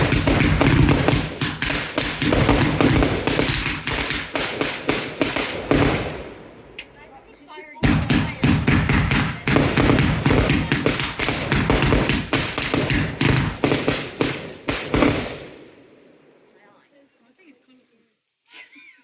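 Bonfire night fireworks on 5 November burst in rapid, dense crackling volleys, loud and close, in two long barrages separated by a brief pause before fading into quieter scattered pops.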